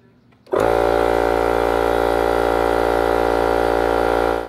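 A MasterCraft 10-gallon workshop air compressor with a 1.8 horsepower motor switches on abruptly after a quiet moment, then runs as a loud, steady, close motor drone that holds without pause until the end.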